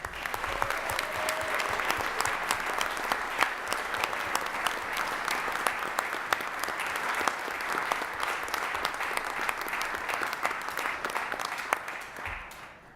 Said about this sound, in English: I'm sure we'd also give a round of applause to Dennis Reddy